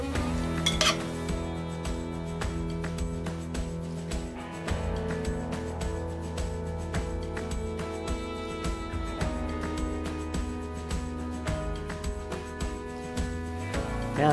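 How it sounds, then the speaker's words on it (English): Spaghetti tossed with extra virgin olive oil in a metal pot, with steady clinking and scraping of utensils against the pot, close and continuous with a low background hum. "I'm gonna take this extra virgin olive oil, and I'm gonna take 2 or 3 tablespoons. and then I'm going to toss it."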